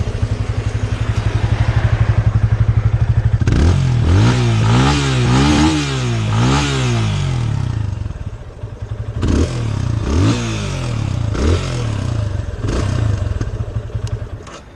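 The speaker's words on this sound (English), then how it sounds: "It's a nice bassy exhaust note." A Yamaha FZ25 motorcycle's bassy exhaust, idling with a steady throb and then revved repeatedly in quick bursts, the pitch rising and falling with each blip before settling back to idle, close and loud.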